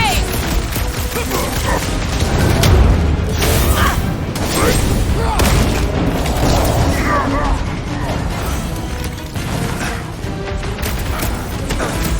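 Fireworks-style explosions from the Guardians of the Galaxy video game, a dense run of booms, pops and crashes that runs loud and steady through the whole stretch, mixed with game noise and overlapping character voices.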